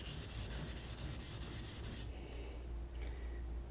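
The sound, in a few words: plane iron rubbed on sharpening stone to remove burr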